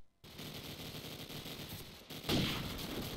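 A gunfire exchange in the video game Call of Duty 4, with continuous rattling shots from several weapons at mid distance and a louder burst near the end.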